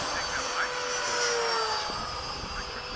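An FMS 80mm Hawk model jet flies in busy skies at a flying field, its ducted-fan whine steady and moderately loud, with a faint pitch sweep as it passes.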